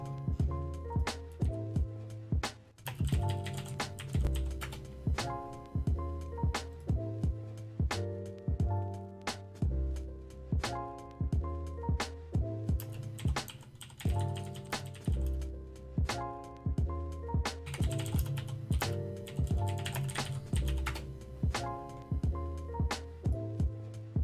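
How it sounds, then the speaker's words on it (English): A loud mechanical computer keyboard clatters through steady bursts of fast typing, sharp key clicks and heavier thumps repeating close up with only brief pauses between flurries. "New keyboard is on its way because this one is too loud."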